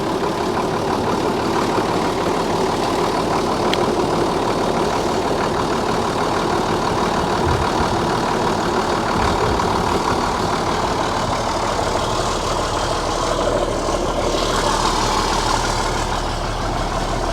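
The DT466E diesel engine of an International 4700 dump truck chassis idles loud and steady after a cold start, a continuous rough low rumble with a faint shift in tone near the end.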